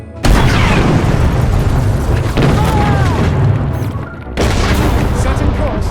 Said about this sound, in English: Torpedoes away!